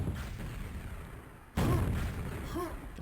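Rocket explosions in a QuakeWorld deathmatch: one sudden loud blast cuts through the noisy arena, followed by rumbling debris and a softer second impact.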